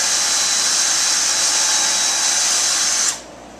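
A power drill fitted with a stop collar bores holes into wood while building a crosscut sled, a steady high whine running loud and close for about three seconds before cutting off abruptly.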